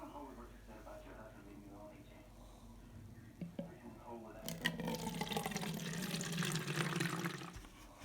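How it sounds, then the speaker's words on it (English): Homemade rose water is poured into a 28-ounce spray bottle from Dollar Tree, a splashing, gurgling pour that builds midway and runs steadily for about three seconds, close by, after a quieter stretch with faint handling noises. "then we're gonna pour it in the 28-ounce spray bottle"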